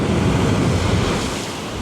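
Ocean waves crash against the rocky shore on Savai'i in a dense, roaring wash of surf mixed with wind buffeting the microphone, loud and unbroken before easing slightly.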